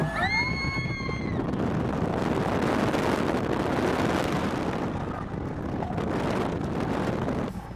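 Ride on the T-Express wooden roller coaster at Everland, a sustained loud roar of rushing wind and rattling track, with a few high screams or squeals near the start, fading slightly toward the end.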